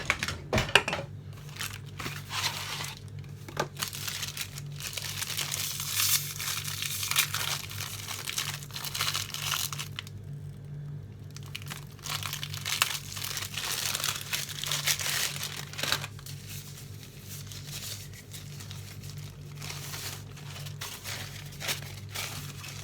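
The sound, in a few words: unrolling ready-made pastry dough with paper crinkling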